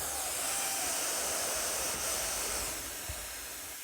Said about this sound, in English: That's hissing.